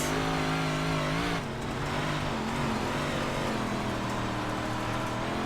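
Big Block Modified race car in iRacing, its roughly 700-horsepower engine droning loud and steady close up, pitch holding high, then briefly dipping and climbing again as it revs on, with no one talking.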